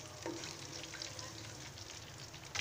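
Cumin seeds, curry leaves, cinnamon pieces, black peppercorns and cloves sizzle in hot oil for mutton biryani: a steady, close, soft crackle with small pops and no voices.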